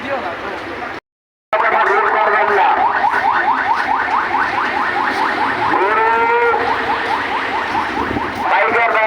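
Cattle low loudly and repeatedly at a crowded roadside cattle market, one drawn-out rippling moo after another close by, with voices and market bustle underneath.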